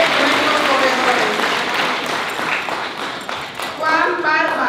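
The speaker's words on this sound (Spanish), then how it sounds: "Un aplauso para todos ellos" Applause from a crowd at the Guadalupe torch run, thanking the race helpers, a broad wash of clapping heard alongside a speaker's amplified voice and children's voices nearby.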